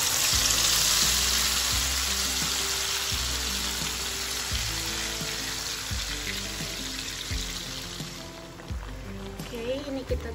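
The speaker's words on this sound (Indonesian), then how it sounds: "ini bumbunya kita tumis dulu" Spice paste for a tuna curry sizzles loudly in a pan, a dense steady frying hiss with repeated scraping stirs, a voice talking over it, and the sizzle fading toward the end.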